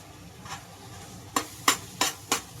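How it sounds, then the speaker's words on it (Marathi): Masala roasts in oil in a pan under a low background sizzle, punctuated by four evenly spaced scraping strokes of a spatula stirring it, close and crisp. "मसाला आपण चांगला भाजून घेणार आहे चांगला तेल फुटूपर्यंत"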